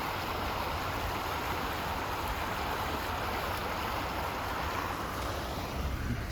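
Stream of water flowing beneath a snow-covered bridge, a steady, fairly faint rushing wash with no voices over it.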